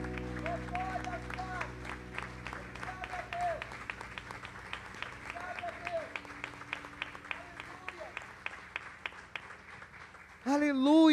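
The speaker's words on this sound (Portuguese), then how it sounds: "Vamos aplaudir a esse Deus que nos amou." A church congregation claps in a steady even rhythm over a soft background tone, faint and regular, before a louder voice breaks in at the end.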